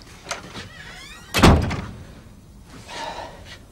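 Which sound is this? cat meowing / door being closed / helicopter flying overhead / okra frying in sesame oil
door being closed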